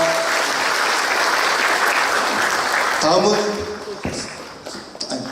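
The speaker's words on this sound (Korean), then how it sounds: "다시 한번 큰 박수 받아주시기 바랍니다" A crowd claps loudly for a guest committee chairman at a book concert event, dense sustained applause that tapers off after about three seconds as a voice and a few scattered claps follow.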